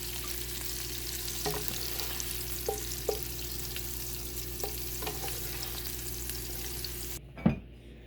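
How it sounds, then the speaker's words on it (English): Steady sizzling of asparagus frying in butter and oil in a pan, a constant crackling hiss with occasional pops and light taps, ending in a sharper clatter. "You can still hear the sizzling sound."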